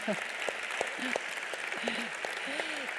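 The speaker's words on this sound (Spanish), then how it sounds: "Así que, por favor, también ese aplauso." Audience at an awards ceremony applauding in a steady wash of clapping, moderately distant, while a voice speaks intermittently over it.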